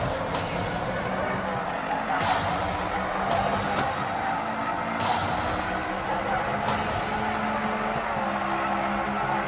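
A Cadillac CT5-V Blackwing in the racing game NFS No Limits is over-revved, producing a continuous loud engine roar with repeated rising whine sweeps every couple of seconds.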